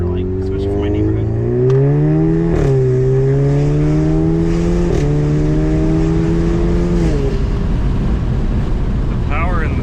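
An Alfa Romeo Giulia Quadrifoglio's engine and exhaust rev loudly and close by, with several rising and falling revs in succession, a deep droning tone and some wind buffeting on the microphone.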